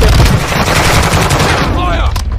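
Gunfire rattles through a Call of Duty: Warzone 2.0 match in loud, rapid automatic bursts that continue without a break for the whole stretch, with a hint of voice chatter underneath.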